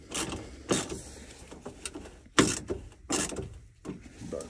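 Someone tightens down a part during an LS engine swap on a Ford F150, making intermittent close metallic clicks and clunks separated by brief quiet gaps.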